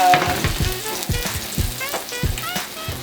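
Food fries in hot avocado oil in a pan, close and lively, with rapid crackling pops and bubbling spatter over a continuous sizzle.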